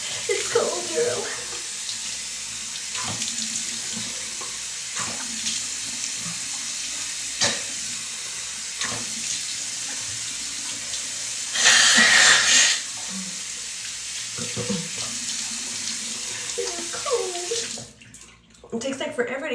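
Water runs steadily from a tap into a sink or tub, a continuous hiss with a brief louder gush partway through, and a person talks over it.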